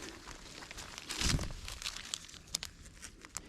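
A thin single-use plastic bag crinkles and crumples in bursts, with a louder scrunch early on and sharp crackles scattered after, close and fairly quiet.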